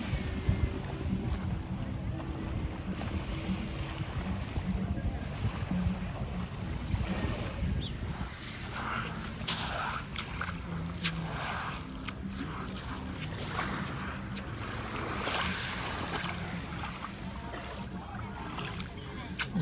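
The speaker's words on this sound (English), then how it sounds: "Capri ferry coming in, just going across the mouth of our beach club." Capri ferry crossing past a beach club near Sorrento, Italy, heard as a steady far-off engine rumble blended with breaking waves and strong wind buffeting, no talking.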